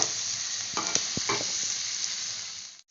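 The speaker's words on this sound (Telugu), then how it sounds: "అల్లం వెల్లుల్లిపాయ వేసుకోవాలి. ఇవి బాగా వేయించుకోవాలి పచ్చి వాసన పోయే వరకు." Ginger and garlic fry in a pan with a steady, close sizzle, while a few sharp stirring scrapes and taps sound in the middle. The frying cuts off abruptly at the end.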